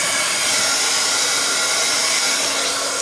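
A hair dryer blows a loud, steady rush of air while drying freshly done nail art, running continuously at close range with no talking.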